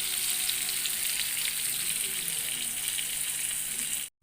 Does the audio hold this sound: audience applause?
no